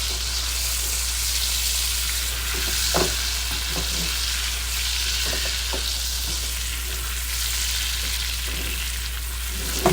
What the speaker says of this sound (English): I do want to go ahead and baste the other side